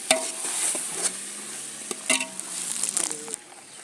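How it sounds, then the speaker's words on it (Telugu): Sambar powder, with curry leaves, coriander powder and chili powder, stirred into a sizzling pan: a steady frying hiss with a few scraping clicks of the spoon, moderately close and alone. "సాంబార్ పౌడర్ వేస్తున్నాను"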